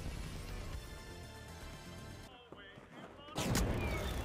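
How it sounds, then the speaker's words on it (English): An RPG explosion in the shooter The Finals, a sharp loud blast near the end following a quieter stretch of gameplay noise, with a thump beforehand and a sustained roar afterward. "He just RPG'd me."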